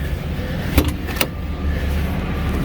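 A semi truck's hood slams shut with a sharp thud near the start, followed by a second lighter knock, over a steady low engine hum with no talking.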